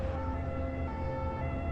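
An ambulance siren wails steadily, a sustained tonal sound over a low engine rumble that continues without a break throughout.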